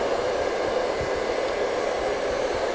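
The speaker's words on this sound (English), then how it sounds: "letting the nozzle and the air of the blow dryer, I'm not moving the blow dryer a lot, just letting that air flow over" Hair dryer blowing air over hair during a haircut, a loud constant roaring whoosh held steady and close throughout with no talking.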